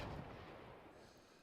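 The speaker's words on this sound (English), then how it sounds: "whatever this was has a cannon, and it fired at the other tank." An enemy tank cannon fires once in the Armoured Commander II video game, a single heavy boom that rolls and fades into a low rumble, fairly quiet and heard alone without talking.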